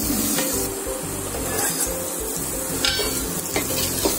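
Masala spices roast in a pan over low-medium heat for stuffed pointed gourd (bharwa patal), giving a steady, close sizzle with repeated scraping stirs throughout.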